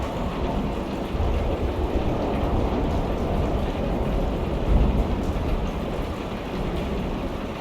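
A rainstorm with rolling thunder in the video game Kentucky Route Zero, steady heavy rain pattering with low rumbling swells, one louder rumble near the middle, no voices.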